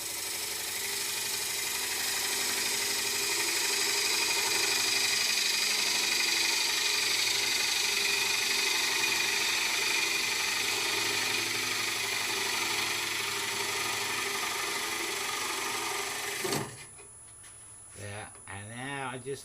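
A wood lathe spins a wormy sycamore bowl blank while a tool flattens the spigot tenon, a steady loud mechanical hum and rumble running continuously before cutting off abruptly near the end, leaving quieter handling noise.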